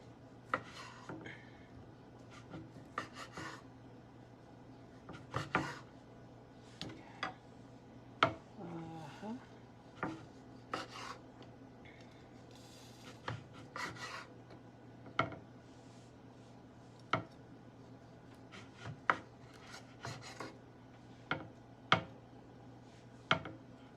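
A knife slices pizza toppings thinly on a cutting board, likely onions and green peppers, giving a steady run of short, quiet chopping taps against a low background hum.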